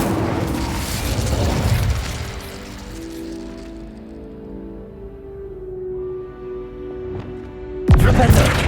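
Spell blasts crack and boom in the video game Hogwarts Legacy on an Xbox Series X, a heavy burst at the start and another sharp impact near the end, with musical tones and a speaking voice between them.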